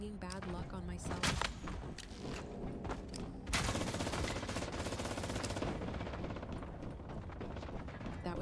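Rapid machine-gun fire from the shooter game Once Human rattles in dense, loud bursts throughout, with sharper single shots in between and someone talking over the gunfire.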